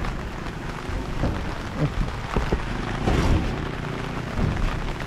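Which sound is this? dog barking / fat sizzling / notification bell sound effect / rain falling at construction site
rain falling at construction site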